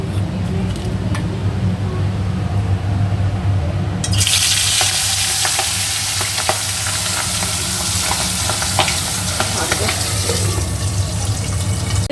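Fish rubbed with salt and turmeric drops into hot oil in a wok, setting off a sudden loud, sustained sizzle and spatter that fills the rest of the clip over faint kitchen clatter.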